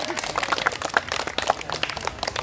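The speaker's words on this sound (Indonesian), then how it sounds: "Oke, tepuk tangan dulu semua." Students in a physical education class clap their hands together in a quick, scattered burst of claps that stays close and moderately loud, with voices mixed in.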